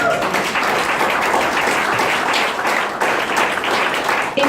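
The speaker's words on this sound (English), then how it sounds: "If you keep clapping me, I'm never getting off here, you know that, right?" Sustained audience applause and clapping at a founder's presentation for the company Smitten, a dense steady wash of many hands filling the room at close range without a break.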